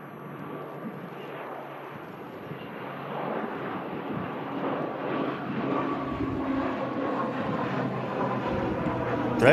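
An airplane rolls for takeoff on the runway at Manchester Airport, a distant jet roar building gradually over several seconds amid wind noise on the microphone.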